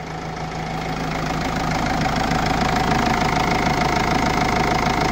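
A Mercedes-Benz engine, after a DRV valve fix for floating idle RPM, idles steadily and smoothly with a constant low rumble and slight knocking texture, close by, with no talking.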